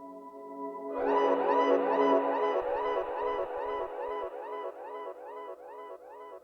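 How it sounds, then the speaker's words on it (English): A short sample chopped from a track, looped and drenched in delay so its phrase repeats in a steady rhythmic cascade of echoes, sustaining evenly to the end with no talking. "I used a different part of it,"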